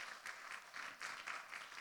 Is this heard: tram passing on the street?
no